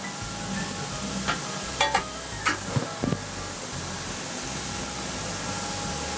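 Onions sizzle on a hot griddle in a loud, continuous hiss, with several scattered scrapes and taps of a spatula.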